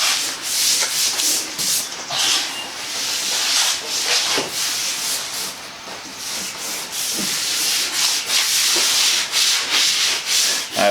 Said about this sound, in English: working on rounding over the plywood edge and then melding it all together